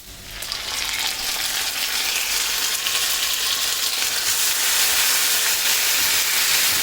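Onions frying for a chingri malai curry, a steady loud sizzle in a hot pan that keeps going without a break and with no talking.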